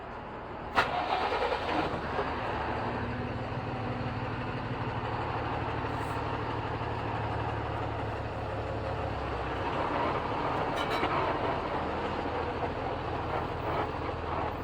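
A truck on a Nelamangala to Pune haul is driven forward and parked, its engine rumbling steadily at close range with a sharp clunk near the start and faint hisses and rattles.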